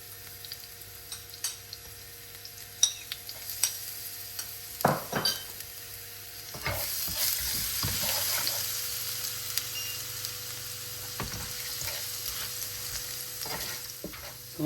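Garlic frying in a pan with whole spices such as cinnamon and bay leaves, scattered spoon taps and clinks at first, then a steady close sizzle with stirring.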